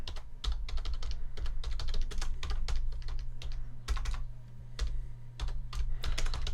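Rapid, steady typing on a computer keyboard, dense clicking keystrokes with brief pauses, close and fairly loud over a low steady hum; no one speaks.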